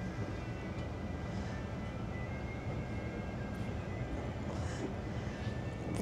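A passenger train running from Sarajevo to Mostar gives a steady low rumble and rattle from inside the carriage, continuous and fairly quiet throughout.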